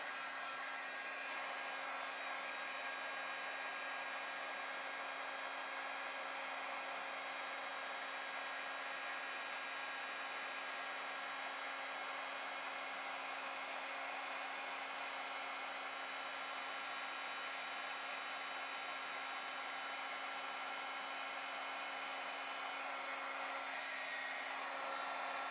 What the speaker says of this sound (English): we're just going to heat set this.